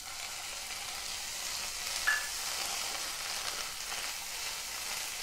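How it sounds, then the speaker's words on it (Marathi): Tomatoes with ginger and garlic frying in a pan for dhaba-style matar paneer, a soft, even sizzle heard up close throughout, with a faint stir or two and no speech. "आणि टोमॅटो मऊ होईपर्यंत जरा परतून घ्यायचं।"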